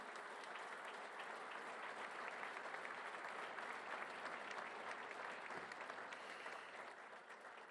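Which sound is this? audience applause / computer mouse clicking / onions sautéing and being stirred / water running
audience applause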